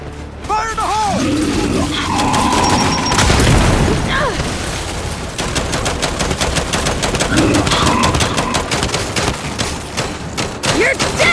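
Grenade blasts and rapid gunfire in Gears 5 combat, heavy booms and bursts of automatic fire filling the scene, with game voices shouting over the battle.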